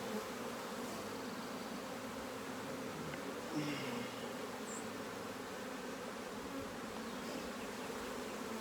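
A docile honeybee swarm drones steadily while being installed into a hive's frames, the buzzing close and unbroken, with a faint brief knock partway through.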